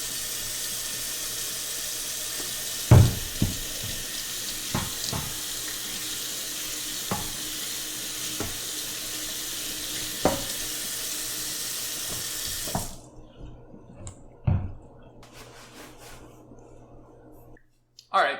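Scalding hot water gushes from a kitchen tap during washing, a steady broadband rush with a few knocks and clicks before it shuts off near the end, leaving quieter scattered clatter.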